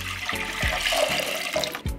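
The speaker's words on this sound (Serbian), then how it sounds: "Za to mi je potrebno litar vode koju ću sipati u jednu šerpu" Tap water pours into a cooking pot, a continuous splashing gush with a few low bubbling surges, close and clear with no voices.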